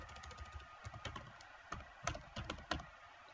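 Fingers type on a computer keyboard in quick, close bursts of light clicking keystrokes with short gaps between them, alone and fairly quiet.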